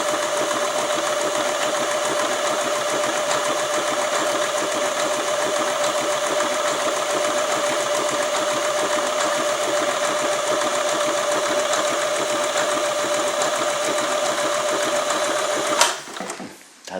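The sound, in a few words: Elna 20 sewing machine stitching fabric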